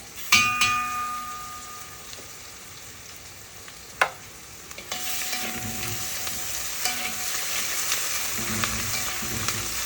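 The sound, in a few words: ginger and garlic paste sizzling in hot oil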